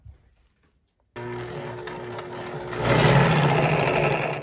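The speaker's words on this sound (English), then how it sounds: "I'm gonna start stitching and just work my way along" A sewing machine stitches rolled fiberglass fabric, starting abruptly after near silence and running as a steady close mechanical whir that grows louder and busier partway through; no one talks.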